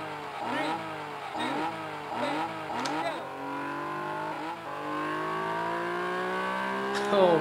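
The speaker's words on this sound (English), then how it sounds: "Those engine noises." An Alfa race car engine in the arcade rally game 1000 Miglia: Great 1000 Miles Rally revs in repeated rising and falling sweeps, then climbs in a long steady pull, loud and continuous with game music behind it.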